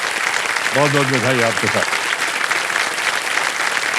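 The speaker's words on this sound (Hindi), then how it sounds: "तालियां बजती रहे इनके लिए" Studio audience on a quiz show claps continuously, a broad, steady wash of applause from a large crowd while someone briefly speaks over it near the start.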